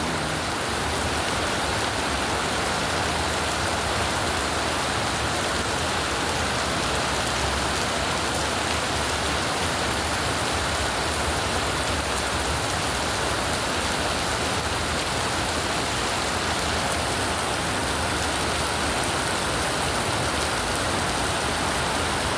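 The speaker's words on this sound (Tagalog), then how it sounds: "lakas ng ulan" Heavy typhoon rain pours down steadily and loudly on surfaces outside, a dense unbroken hiss lasting throughout with no talking.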